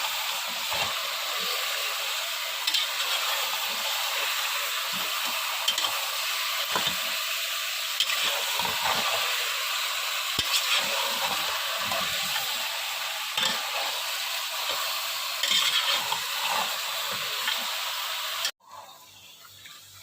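Steady sizzling and hissing of beef frying in a hot pot for korma, with occasional scraping stirs, ending in an abrupt cut.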